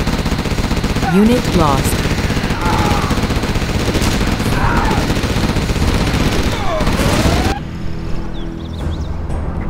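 Assault rifle fire in the game Generals Zero Hour, loud sustained automatic bursts mixed with battle noise, with a voice speaking briefly near the end.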